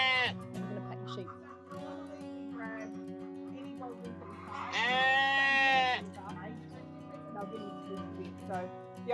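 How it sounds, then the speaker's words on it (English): Sheep bleating on a farm, several wavering cries with one loud, close, drawn-out bleat in the middle, mixed with a person talking nearby. "I'm going to pet the sheep."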